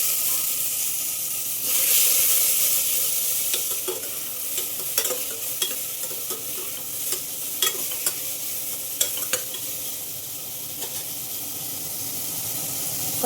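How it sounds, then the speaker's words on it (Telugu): Curry leaves, dried and green chillies, cumin, tomato and carrot pieces fry in hot oil as a tempering, with a steady sizzle and repeated sharp clicks of a spoon stirring against the pan, close and alone. "జీలకర్ర ఒక ఎండుమిరపకాయ ఇలా వేసేసి వేయించేసుకోవాలి పోపు మాడిపోకుండా"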